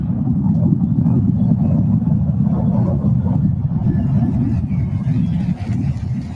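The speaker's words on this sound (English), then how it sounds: "We have liftoff." SpaceX Starship Flight 10 lifting off on its Super Heavy Booster 16 with Ship 34, a massive, continuous low roar that stays loud and steady throughout without a break.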